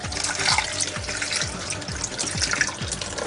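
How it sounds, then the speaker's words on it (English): Water poured into thick coconut milk powder, a continuous close gurgling pour with rhythmic glugging pulses, loud and steady with no speech. "So I'll just add water."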